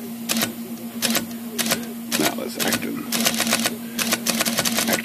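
An IBM Selectric typewriter runs with its backspace key repeating, giving rapid bursts of mechanical clatter and clicks in quick clusters over a steady motor hum, close up, with a brief spoken remark.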